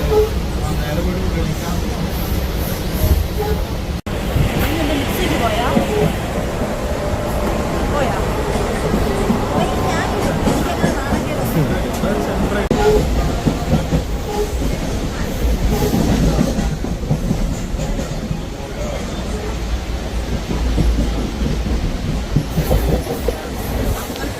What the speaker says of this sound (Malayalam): നമ്മൾ ട്രെയിനിൽ കയറി ആടി ഉലഞ്ഞു പോവുകയാണ്